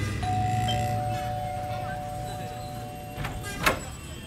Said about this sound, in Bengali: calling bell টিপল